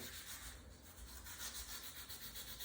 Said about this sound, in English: Sand it off quick before it gets in there.